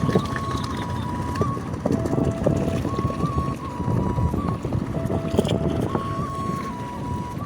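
A boat's motor drones steadily over moving river water in Rajbari, Bangladesh, with gusts of wind buffeting the microphone throughout.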